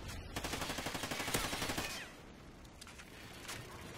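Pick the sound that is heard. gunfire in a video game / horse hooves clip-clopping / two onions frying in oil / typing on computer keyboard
gunfire in a video game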